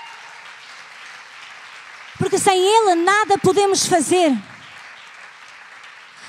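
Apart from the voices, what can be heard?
church congregation applauding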